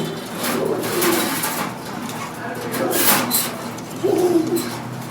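A racing pigeon in a loft coos close by in low, rolling phrases, three soft bursts spaced a second or two apart over faint background noise.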